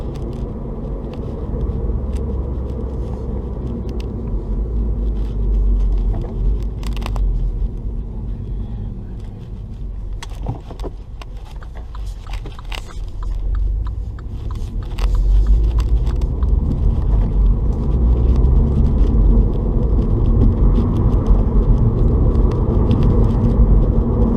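A MINI Cooper S Works 210 three-door hatch driven in third gear at around 40 gives a steady low engine and road rumble inside the cabin, with scattered clicks and knocks, growing louder partway through.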